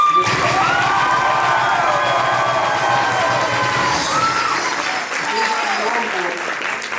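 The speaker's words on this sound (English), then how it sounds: "let's give it a big hand clap" A loud crowd applauding continuously, with cheering, whoops and excited shouts rising over the clapping.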